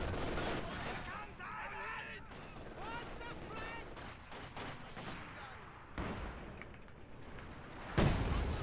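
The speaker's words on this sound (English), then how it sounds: "Artillery hits the MG." Artillery fire and gunshots in a Company of Heroes 2 match, scattered thuds and sharp bursts under continuous commentary, with one louder blast near the end.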